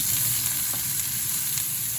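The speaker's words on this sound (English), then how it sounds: "pour edible oil into the pot again to start stir-frying the onion." Onion stir-fries in edible oil in a pot, giving a steady, even sizzle up close with faint crackles throughout.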